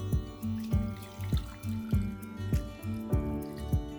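Cashew almond milk poured through a funnel into a jar, trickling and dripping in a steady rhythm of repeated plops, close and fairly quiet.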